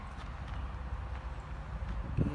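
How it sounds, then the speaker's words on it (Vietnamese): Horses walk along a road through open country, their hooves clopping steadily under a constant outdoor rumble, fairly close by. "Mấy con ngựa nè, đẹp thôi chưa?"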